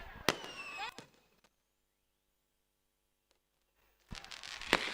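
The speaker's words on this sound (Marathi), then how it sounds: "फटाक्याच्या आतिषबाजीमध्ये द एनपी शो" Fireworks crackle and bang loudly to celebrate a win in the Shree Chhatrapati Shivaji Maharaj Trophy cricket final. A burst of pops opens, quiet follows, then a dense crackling volley returns at the end.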